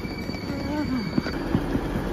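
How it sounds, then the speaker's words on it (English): Train standing at a German main station, low rumbling and faint wheel squeals with a thin steady whine, station ambience and a voice mixed in. "This is actually my next train."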